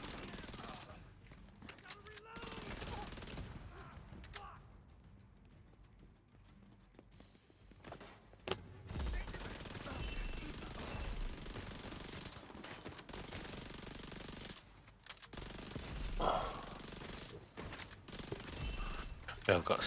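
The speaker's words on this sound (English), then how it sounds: "Oh crap, somebody's shooting at me." Gunfire aimed at the player in a shooter video game, with repeated automatic bursts and volleys coming and going at moderate volume while someone talks over parts of it.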